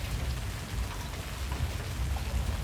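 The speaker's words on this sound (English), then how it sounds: "We're going through hail." A hail storm in the Roblox game Twisted: a dense, steady pattering roar with a heavy low rumble that holds evenly from start to finish, with no voices.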